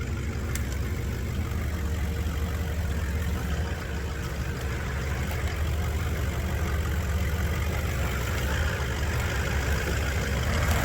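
A 4WD engine coasting downhill in low range first gear, a steady low rumble running continuously without rising or falling, close and even.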